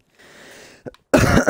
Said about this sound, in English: I had to cough right there